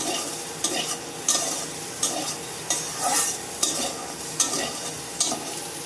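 Soybean chunks fry and sizzle in hot oil while being stirred, a steady hiss broken by a regular scrape of the spatula about every half second to second, close up, with no voices.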